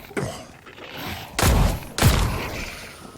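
Gunfire from epic weapons in the video game The Cycle: Frontier, three heavy booming shots with rumbling tails, the last two loud and close together, no talking.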